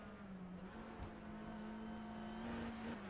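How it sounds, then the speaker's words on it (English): A TCR touring race car at Imola holds a steady engine drone with a slight pitch dip, heard faint and distant as the driver lifts off, no voices over it. "you can hear him lift off. Yeah, you can hear the revs"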